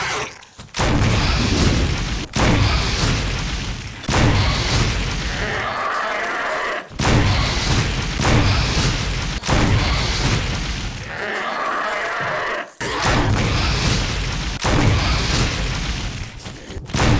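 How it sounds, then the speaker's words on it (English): Incendiary rounds fired in the Resident Evil REmake video game, a series of loud, booming in-game blasts spaced every couple of seconds, each with a fiery crackling tail. "now let's finally test out incendiary rounds."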